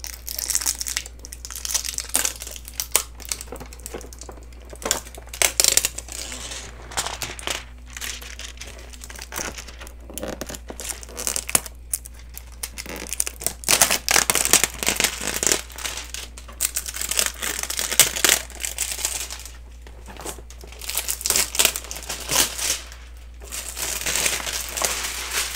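Plastic packaging of a Bob Ross art kit being opened by hand, with loud, continuous crinkling and crushing that comes in dense bursts and short pauses over about twenty-five seconds, close up and without talk.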